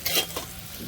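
A tadka of tempering spices sizzles in a pan while being stirred for Saurashtra-style panchkuti dal, a brief close hiss with a scraping stir near the start.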